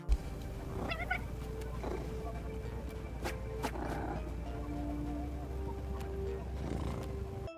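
Jetpack Cat from the game Overwatch meows repeatedly, several short, high, nasal mews spread across the stretch over a low steady game hum.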